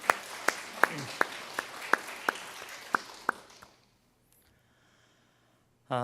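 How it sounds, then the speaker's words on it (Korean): Scattered applause from a small church Bible-study congregation: a few sparse, evenly spaced claps ringing out for several seconds in a quiet room, then fading into near silence. "다시 한번 박수 보내주시기 바랍니다."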